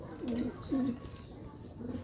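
Pigeons coo softly nearby in two or three low, rolling calls, quiet against a faint background with some indistinct voice.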